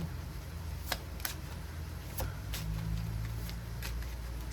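Tarot cards being shuffled by hand, soft papery riffles and sharp snapping clicks spaced irregularly over a low background hum, close and quiet, with no talking.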